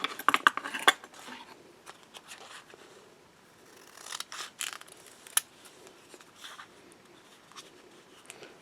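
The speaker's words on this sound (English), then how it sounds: "We'll cut a couple of pieces of the Tenacious tape to put on here" Scissors snip through pieces of Tenacious repair tape, giving a few sharp close metallic cuts at the start, then scattered quieter clicks and handling rustles with no talking.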